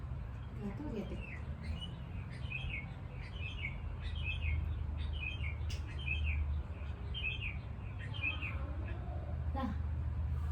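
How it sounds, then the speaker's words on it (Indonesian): Birds chirp in short repeated bursts over a low, steady background hum, fairly faint and somewhat distant. "Suara burung."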